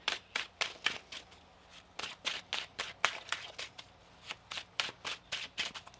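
Tarot cards being shuffled in quick, crisp riffling bursts, a dozen or more sharp flurries in an irregular rhythm, close and fairly quiet with no voice.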